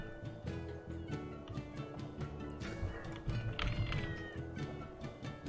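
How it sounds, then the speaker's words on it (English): A cat meows during Tales of Berseria gameplay, a short mewing call over steady game music and ambient sound effects, with footstep-like taps throughout. "Oh, it's a cat!"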